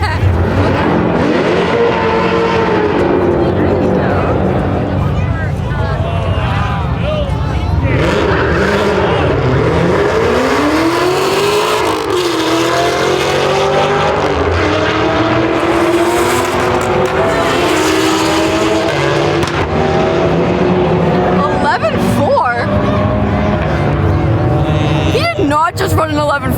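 A 1,000-horsepower Hennessey Exorcist makes a drag strip run, its loud engine roar climbing and shifting through gears along with tire noise, while people talk excitedly over it throughout.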